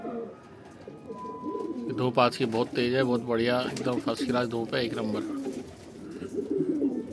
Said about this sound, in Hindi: ये देखो दोस्तों, सारे कबूतर मस्ती कर रहे हैं